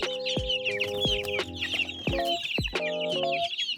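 Chicks and fowl of SBR and native breeds in a breeding area, hungry and agitated, giving busy overlapping high peeps and clucks with sharp repeated calls, close and steady throughout.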